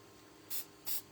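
Cinnamon-coloured spray paint hisses from a can onto an old scale in two short, close bursts, each about a tenth of a second long, with quiet room tone between them.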